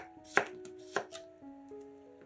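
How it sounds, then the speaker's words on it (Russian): A knife chops crisply through a fresh cucumber on a cutting board, slicing it into rounds, two or three distinct cuts with soft ringing in a quiet room. "Один огурец нарезаем кружочками."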